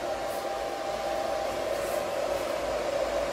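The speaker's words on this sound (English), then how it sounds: "This is our 3 horsepower pump drive. Motor is now on running condition." The electronic drive for a 3 hp solar BLDC submersible pump runs in an installation room, giving off a steady, even whirring hum with a cooling-fan-like hiss and no pauses.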